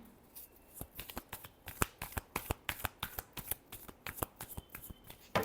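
A deck of tarot cards is shuffled close up, giving a rapid run of crisp riffling clicks and flutters at a quiet level with no voices.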